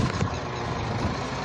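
A tractor with a loader bucket works nearby while loading straw into a trolley, its engine giving a steady, loud rumbling drone through the short stretch.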